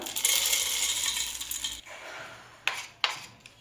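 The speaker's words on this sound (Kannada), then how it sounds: "ಒಂದು ಮಿಕ್ಸರ್ ಜಾರಲ್ಲಿ ಶೇಂಗಾ ಮತ್ತು ಬೆಲ್ಲ ಹಾಕ್ಕೊಂಡು ಪುಡಿ ಮಾಡ್ಕೊಳ್ಳೋಣ" Peanuts poured into a mixer jar, a dense rattling patter of dry nuts hitting the jar for nearly two seconds, then two sharp separate clacks, close and clear.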